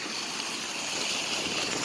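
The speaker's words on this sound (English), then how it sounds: "and here's the creek." Steady rushing hiss of a creek flowing near a roadside waterfall in Aguas Buenas, Puerto Rico, an unbroken wash of water noise without voices.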